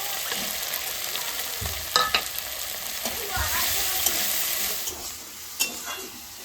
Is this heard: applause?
no